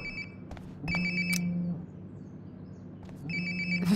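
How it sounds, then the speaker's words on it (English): In the video game Life is Strange: Before the Storm, a cell phone ringtone plays nearby in short repeating electronic bursts, stopping and starting again, over a low humming room ambience. "Sounds like my phone is definitely nearby."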